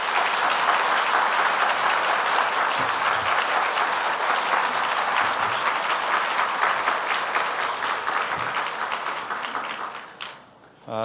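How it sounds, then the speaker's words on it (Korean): A church congregation applauds to welcome a pastor to the pulpit, dense sustained clapping from a large audience that fades out near the end. "목사님 나오실 때 박수로 환영하겠습니다"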